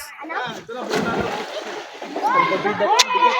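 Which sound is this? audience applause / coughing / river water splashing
river water splashing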